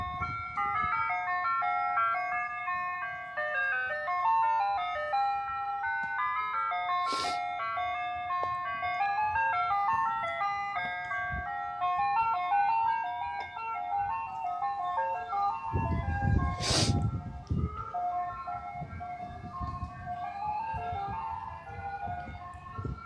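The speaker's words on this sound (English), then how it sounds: "ice cream truck. I don't know if you guys can hear it." An ice cream truck's chiming melody plays steadily outside, loud and continuous throughout, with a couple of brief sharp bangs and some rumbling passing noise.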